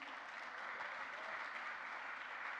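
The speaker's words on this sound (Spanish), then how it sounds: "un fuerte aplauso al Señor" A church congregation applauds during a Spanish-language service, producing a soft, even wash of many clapping hands that stays steady and somewhat distant throughout.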